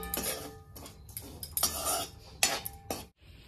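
A spoon scraping and clinking against a metal dish while mixing a besan stuffing with chopped coriander and salt, in irregular bursts of sharp metallic clatter with short pauses between strokes.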